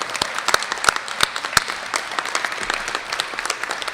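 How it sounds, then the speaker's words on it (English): Audience applause for adult education graduates at a 2017 graduation ceremony, steady dense clapping with sharp individual claps standing out, continuous and fairly close for several seconds. "Can I get a round of applause for the graduates?"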